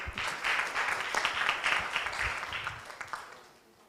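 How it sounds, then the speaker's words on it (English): A small audience claps for a team at an English debating competition final, a brief burst of moderately loud applause with distinct individual claps that swells, then thins and fades out. "Give applause to this group."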